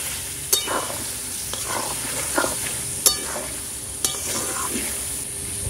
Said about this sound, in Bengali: আর এটার সাথে একটুখানি ভালো করে ভাজা করে নেবে